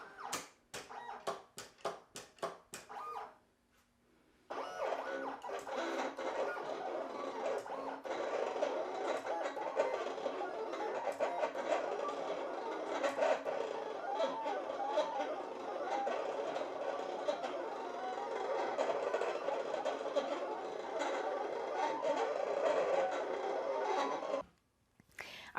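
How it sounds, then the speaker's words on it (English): Cameo 4 Pro cutting machine at work, a sustained whirring carriage motor with faint rhythmic chatter running steadily for about twenty seconds after a few sharp clicks, stopping abruptly at the end. "And you can see I'm cutting it using carriage 1."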